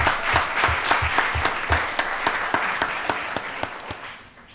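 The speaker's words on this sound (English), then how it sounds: "Let's give Michelle another birthday round of applause." At a county board of commissioners meeting, a crowd gives a birthday round of applause: brisk, fairly loud clapping from many hands that slowly thins and fades out.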